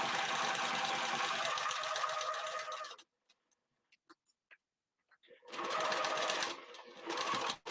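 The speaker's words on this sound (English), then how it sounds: "lower your presser foot, lower your needle, back tack again, and sew going all the way to the opposite side." A sewing machine stitching a snap pouch with back tacks, running in a fast steady buzz for about three seconds, pausing with a few small clicks, then starting up again near and loud.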